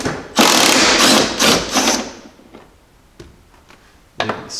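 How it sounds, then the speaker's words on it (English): Quick clicking bursts of a 3/8 ratchet turning a deep socket on a nut atop a cylinder head bolt in a Jeep engine bay, several close, loud ratcheting strokes followed by softer taps and a final click. "you can fit a deep socket with a 3/8 ratchet"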